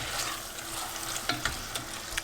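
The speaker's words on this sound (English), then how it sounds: "So we're going to give this a stir." Chickpea curry with peppers stirred in a pan, a few soft scraping knocks of the spoon over a low steady sizzle, close and quiet, no talk.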